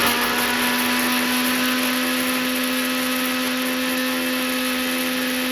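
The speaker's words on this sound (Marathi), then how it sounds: "ते टाकून आता आपण एकदम मिक्सर करू" A mixer grinder blending Bombay duck chutney whirs at high speed, loud and steady throughout, with a constant motor hum and no pauses.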